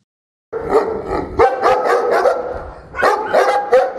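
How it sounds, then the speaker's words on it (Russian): Police service dogs bark loudly and close by in a rapid, repeated volley, with several overlapping barks and growling yips that come in two bursts with a brief lull between them. "Звериный оскал и грозный лай иногда может привести в чувство и одновременно парализовать даже самого отъявленного злодея"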